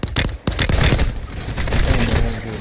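Rapid gunfire in an online shooter game, loud close bursts of shots with booming echoes, packed tightly together over a couple of seconds.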